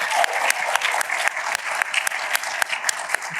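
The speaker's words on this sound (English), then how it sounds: "Give a round of applause." A live audience claps at a PAX East stage show, a dense, even round of applause with sharp individual claps standing out, sustained for the whole stretch.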